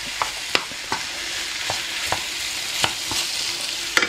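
Beef and pork with red pepper and onion sizzle steadily in a pan, with a constant frying hiss broken by repeated sharp clicks of a utensil stirring and scraping, close and alone without talk.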